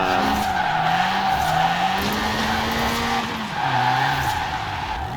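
A car in Forza Horizon 4 spins through a full 180 on its skidding tyres. The engine drones loudly and steadily, its pitch sliding up and down under a continuous scrubbing screech of the tyres.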